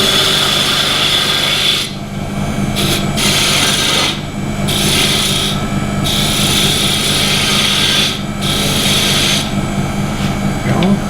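A lathe tool rasps steadily against a spinning wooden kendama as a cove is cut, a continuous close scraping with brief pauses and shifts in pressure every second or so, no talking.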